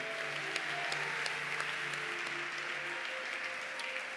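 A church congregation at a Sunday service applauds in a steady, dense wash of clapping that holds for several seconds, with scattered sharper claps standing out and faint voices underneath.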